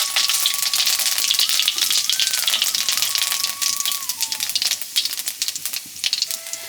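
Panch phoron spices crackle and sizzle in hot oil, a busy, steady frying hiss full of tiny pops that thins slightly toward the end, with a faint tonal whine running underneath.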